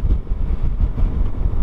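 Wind roar buffeting a helmet while riding a Piaggio Beverly 300 scooter with a windshield, a loud continuous low rumble that swells and surges without pause; no talking.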